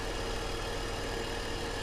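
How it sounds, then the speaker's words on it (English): A BMW E39 engine idles steadily nearby, a continuous low rumble with a faint rough edge and no voices over it. "I'll try to shield the mic a little bit from the sound of the engine"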